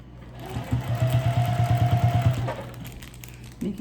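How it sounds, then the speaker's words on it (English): A domestic sewing machine stitches fabric in a fast, even mechanical chatter for about two seconds, close and moderately loud, then stops. "So let's go to the sewing machine."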